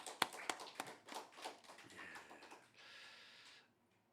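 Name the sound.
church congregation applause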